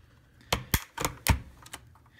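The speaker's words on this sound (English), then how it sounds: "let's just pull a key out" A keycap being pulled from an Azio Armato mechanical keyboard with Cherry switches, a quick run of sharp plastic clicks and snaps close to the mic, about five distinct hits in two seconds.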